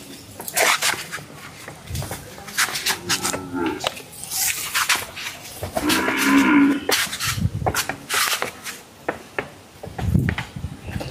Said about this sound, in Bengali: দেখছেন 1 নম্বর বকনা বাচ্চা রেডি